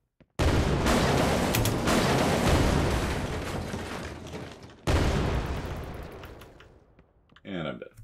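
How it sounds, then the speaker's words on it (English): A grenade blast in an Unreal Engine 5 shooter, amid a heavy, continuous roar of gunfire and explosions that swells, cuts out, then bursts again before fading, with a short burst of game sound near the end. "Toss a grenade up there."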